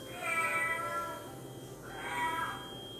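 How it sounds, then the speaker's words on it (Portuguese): Two drawn-out cat meows, one after another, moderately faint over a steady background hum in a museum. "ainda pode-se ouvir o miado dele por aqui"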